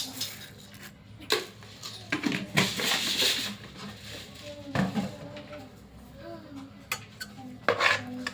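Dosa batter with added salt and sugar being stirred in a bowl, giving intermittent scraping and clinking of a utensil against the bowl in uneven strokes, close up, over low background noise.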